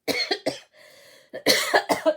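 A person coughs repeatedly up close, a few harsh bursts, a brief pause, then another rapid run of coughs.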